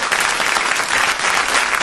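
A loud, dense wall of audience applause greets a singer at a live radio show, continuous and close for the whole moment.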